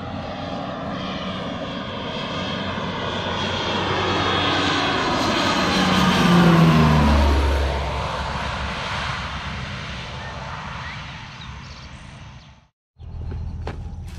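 A propeller crop-spraying airplane applying fungicide approaches with a swelling engine drone, passes low directly overhead, then fades away before a brief gap and returning engine noise.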